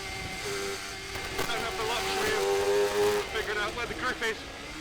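A Sports 1000 race car at Croft builds revs under steady throttle, its engine note rising in pitch and then breaking up through gear changes, heard near and loud beneath someone talking.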